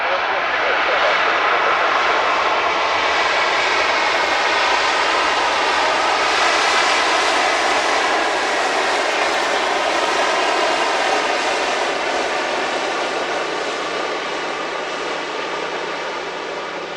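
An Air Canada jet airliner at Vancouver Airport during an evening landing, a loud steady roar of engine and rushing air that holds for the whole span and eases slightly toward the end.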